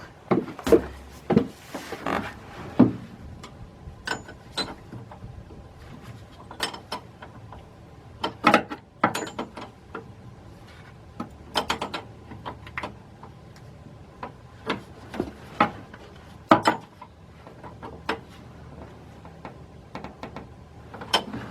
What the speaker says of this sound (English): let's get our 18mm wrench, line wrench. And so you can see it from there. I'm going to tighten it up.